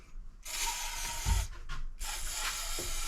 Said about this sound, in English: now we're just going to kind of spray this out